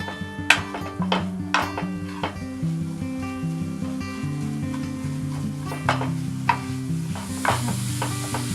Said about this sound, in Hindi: खोया डालने के बाद इसको गरम करते रहे, चलाते रहे, जल ना जाए